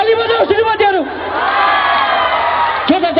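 An audience at a Losar evening cultural programme bursts into loud cheering, whoops and shouts, a dense crowd roar that swells and holds for a few seconds.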